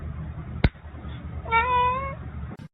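A cat gives one clear, drawn-out meow partway through, close and moderately loud, after a brief sharp knock; otherwise the room is quiet.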